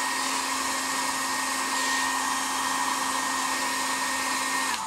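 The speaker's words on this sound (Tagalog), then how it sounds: "Kung gusto nyo mas malambot pa yung plastic, pwede kayong gumamit ng hair dryer." A hair dryer heating a plastic toy figure blows with a constant, close whooshing hum and a steady tonal whine, running alone until it cuts off at the end.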